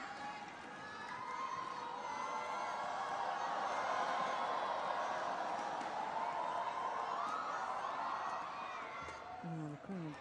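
A badminton crowd at a women's doubles quarterfinal of the 2012 Djarum Indonesia Open swells into sustained cheering and chanting that builds and holds for several seconds before fading, with a voice entering at the end.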